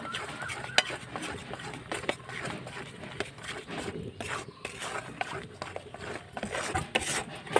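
Peanuts are stirred into thick jaggery syrup in a wok, with continuous spatula scraping and clinking in an irregular rhythm at moderate volume.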